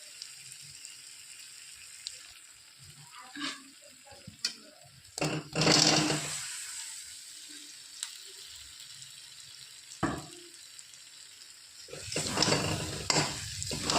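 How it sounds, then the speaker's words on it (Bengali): Boiled new potatoes stir-fried with spices in a pan for an egg and pea curry, heard as a faint background sizzle with scattered bursts of spoon scraping and stirring, and no talking. "আর সেদ্ধ করা আলু দিয়ে মশলার সাথে কিছুক্ষণ কষিয়ে নেব।"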